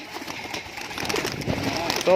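Pigeons in a loft, a high-flyer breed, give soft cooing calls under steady nearby talk, with faint rustling and a brief clearer note near the end.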